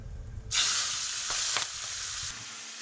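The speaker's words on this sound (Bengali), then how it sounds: "গোটা জিরে, শুকনো লঙ্কা ফোড়নে দিয়ে দিলাম।" Whole cumin seeds and dried red chillies are dropped into hot oil and burst into a sudden loud, bright sizzle that holds steady for about two seconds with a couple of crackling pops, then drops off.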